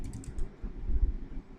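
Typing on a computer keyboard up close, a quick run of soft clicking keystrokes with a few heavier taps, heard alone without talk.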